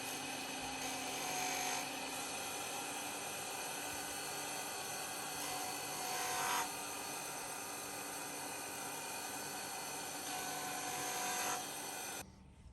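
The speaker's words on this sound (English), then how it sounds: "We're going to have to sand the tip and then it works again." A sander grinds at the tip of a tool in a workshop, a steady high-pitched whine running continuously for about twelve seconds with small surges in pitch before cutting off near the end.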